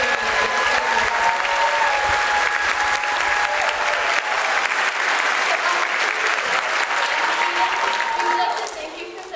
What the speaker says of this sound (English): can we have one last round of applause for all of our 4th and 5th grade musicians tonight